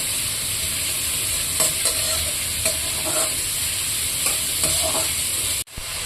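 Onions frying in oil with curry leaves and green chillies, a steady close sizzle with scattered spoon scrapes and stirring clatter, ending in a brief cut near the close.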